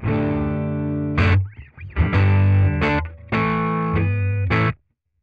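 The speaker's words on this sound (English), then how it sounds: "Deluxe reverb." An electric guitar runs through the NUX Trident's Deluxe Reverb amp model, playing several sustained, full chords separated by brief muted scratches before a clean stop.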